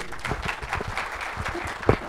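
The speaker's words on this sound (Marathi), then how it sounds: "मार्गदर्शन चांगलं वाटलं तर जोरदार टाळी" Applause from a farming seminar audience, brief scattered clapping with one sharper clap near the end, moderately loud and steady throughout.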